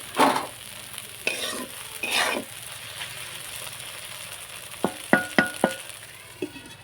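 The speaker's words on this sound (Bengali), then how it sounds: "মশলাগুলো এবারে ভালো করে আমি কষিয়ে নেব টমেটোগুলো দিয়ে দেব দিয়ে কষাতে থাকবো" Spices and tomatoes fry in a pan, giving a steady sizzle broken by a few scraping stirs and a run of sharp clinks of a spoon against the metal near the end, close and fairly loud.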